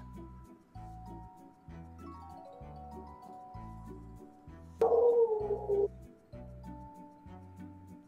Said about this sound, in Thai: หมาบ้านใครเห่าวะ